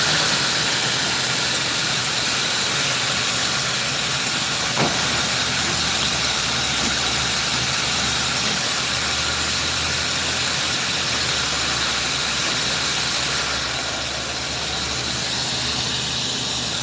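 Propane gas hisses out beside an 86 Oldsmobile Cutlass dirt track car, a loud, steady broadband rush that carries on without a break, with no speech.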